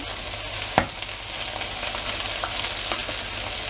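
Fried rice sizzles steadily in a hot pan as it is stirred and soy sauce is added, with a clear clunk of a utensil near the start over the continuous frying hiss.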